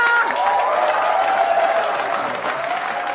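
Audience applause in an Indonesian comedy film scene as a wife steps onto a stage, continuous loud clapping from a crowd with some cheering mixed in, sustained for the whole moment.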